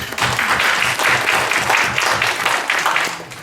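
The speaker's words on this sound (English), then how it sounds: "So let's all give them a round of applause." Audience applause fills a hall during an Islamic talk on preparing for Ramadan, a dense, steady wash of many hands clapping that holds at full strength for several seconds before tapering slightly at the end.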